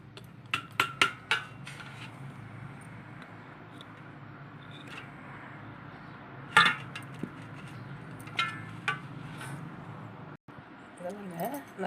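Steamed puttu being tapped out of its mould: a few sharp metallic knocks near the start, then a louder cluster of clinks midway and a couple of lighter taps later, over a low hum and faint voices.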